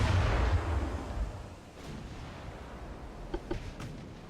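A warship returns artillery fire in the naval battle game Ultimate Admiral: Dreadnoughts: a heavy, loud boom opens and rumbles away, followed by a couple of fainter, distant pops.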